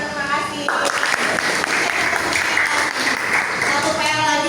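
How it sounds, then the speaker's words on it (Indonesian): Applause from an audience at an Islamic religious-education teacher performance test, a dense steady patter of clapping lasting the whole moment, with a voice speaking over it. "Tepuk tangan, terima kasih."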